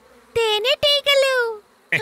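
Cartoon honeybees buzz in several loud, tonal bursts with sliding pitch. The buzzing is close and clear and sounds like a voice or synth imitating bees.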